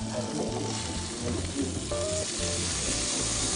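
Artisan sausage fries in a pan with a steady, loud crackling sizzle throughout and some faint stirring or tonal kitchen sounds mixed in, with no speech.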